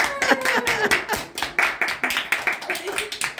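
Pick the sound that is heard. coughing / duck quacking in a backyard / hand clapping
hand clapping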